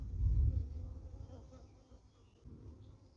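A dense buzzing of many honey bees close up around a mating nuc, loudest at the start and then settling into a steady low hum.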